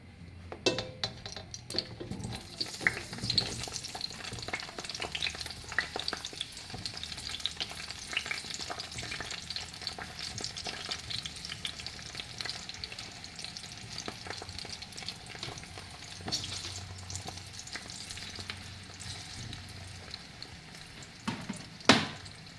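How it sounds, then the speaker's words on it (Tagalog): Eggplant sizzles and crackles frying in hot oil, a continuous frying hiss with occasional spatters and stirring clinks, fairly close. "Ngayon po ay magpiprito muna tayo ng talong."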